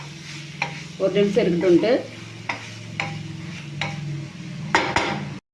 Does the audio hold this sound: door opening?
no